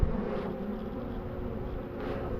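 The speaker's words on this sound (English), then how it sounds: "because there's so many bees still in here" Honey bees buzz steadily around an old, moldy brood box with a solid base, a dense, continuous close-up hum with no other sounds.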